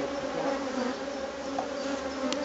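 Honeybees swarming around an open hive, a steady close buzzing hum with no talk.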